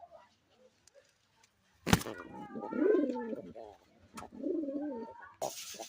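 Lotan pigeons, a pair sitting on eggs in a pigeon loft, giving two close, low, warbling coo phrases, with a few sharp clicks and knocks between them.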